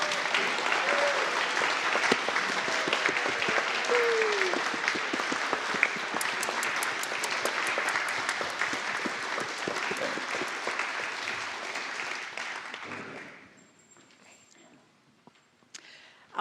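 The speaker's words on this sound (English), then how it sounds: "let us welcome them with a nice warm round of applause" A congregation gives a sustained round of applause to welcome new church members, dense clapping that holds steady for about thirteen seconds and then fades into quiet room tone.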